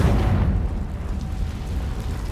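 A fire spell explosion in the Hogwarts Legacy video game: a loud, full boom that bursts at once and rolls off over about two seconds, with no voices over it.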